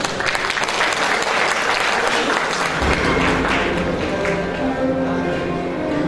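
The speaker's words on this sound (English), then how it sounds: "A huge round of applause, please." An audience at the eOdisha Awards ceremony in 2013 breaks into a big round of applause, loud sustained clapping throughout, joined partway by background music.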